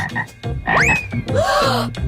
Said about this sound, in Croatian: O ne, samo ne žaba.